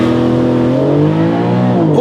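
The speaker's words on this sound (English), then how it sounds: "So this car does have launch control, traction control off." A Porsche 718 Cayman GTS 4.0 launching hard with launch control and traction control off, its engine note loud and close, climbing steadily in pitch through two seconds of continuous acceleration.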